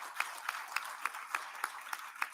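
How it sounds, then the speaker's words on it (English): Faint, rhythmic applause at a conference: steady, evenly spaced claps, a few people clapping together at a distance. "So give a round of applause for Miss Lisa Coker."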